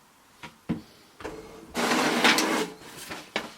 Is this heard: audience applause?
no